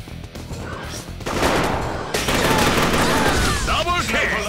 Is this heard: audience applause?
no